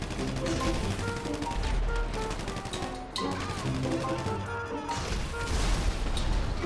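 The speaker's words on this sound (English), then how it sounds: "How about I just, like, shoot them with my rocket launcher." Rocket launcher blasts and explosions ring out in the online game GTA 5, loud repeated booms and crashes in a dense, continuous barrage of gunfire.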